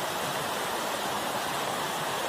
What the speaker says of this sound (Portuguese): achamos um rio aqui. Dá vontade de nadar aí. E dessa corrente de água aí.